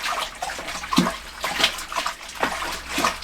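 Dry malt being stirred into boiling hot water for home brewing, rhythmic sloshing and swirling liquid in a pot, close and moderately loud, with a few splashy strokes.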